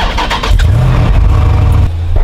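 A Lexus with a 1JZ engine runs close by, a loud low rumble that swells briefly as if revved, then settles to a steady idle.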